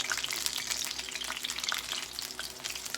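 Okra and onion fritter patties frying in hot oil, a steady dense sizzle with crackling pops running throughout, close and continuous with no talk.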